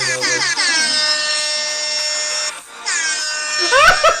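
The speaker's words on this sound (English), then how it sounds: "She's just hitting the air horn over and over." A loud air horn sounds in a long, sustained blast and breaks off briefly, then blares again with a few short bursts at the end.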